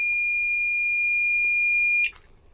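A multimeter gives a steady, shrill continuity beep with its probes on the gate and source of a faulty, shorted car EPS steering module, holding loud and unbroken for about two seconds before cutting off abruptly.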